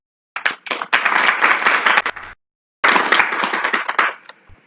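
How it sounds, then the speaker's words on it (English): Audience at a LinkedIn Local networking event in Lahore gives a round of applause, two dense bursts of many hands clapping, loud and close, separated by a short silent gap. "the most important thing right now is firstly to give you a round of applause"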